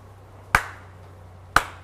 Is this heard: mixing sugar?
no